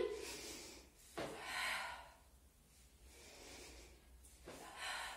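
A woman draws audible breaths during a Pilates rocking exercise, balancing on the sit bones; three sharp, close inhalations through the nose come at spaced intervals amid quiet airy breathing, with no speech.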